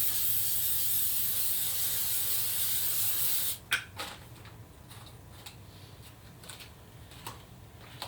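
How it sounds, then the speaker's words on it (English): A steady, loud spray of aerosol spray-mount adhesive hisses for about three and a half seconds, then stops, leaving faint clicks and light taps. "let me put some spray mount on this real quick"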